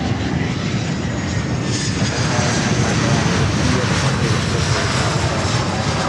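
A Boeing 767 cargo jet lands at Miami airport, its engines a loud continuous roar that holds steady throughout, with a voice faintly underneath.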